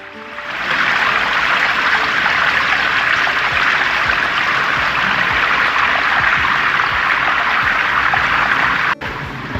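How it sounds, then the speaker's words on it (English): A small waterfall in Glen Howe Park pours steadily into a stream, a continuous close rushing and splashing of water that holds constant for the whole stretch with only a brief dip near the end. "Beautiful wee waterfall."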